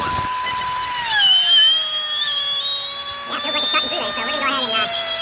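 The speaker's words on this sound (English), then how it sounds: "I'm going to use my Dremel side cut bit" A Dremel side cut bit cuts into a Volkswagen motor mount with a close, shrill whine that slides lower in pitch as it bites and then steadies, while a voice talks over part of it.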